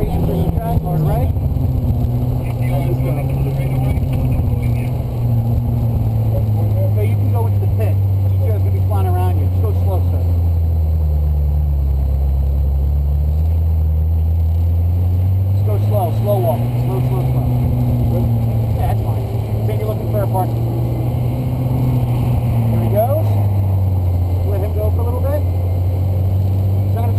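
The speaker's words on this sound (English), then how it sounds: "Red Ferrari entering the track." A red Ferrari California drives onto the track at NJ Motorsports Park. Its engine gives a loud, steady drone that rises and falls in pitch throughout, with voices talking over it at times.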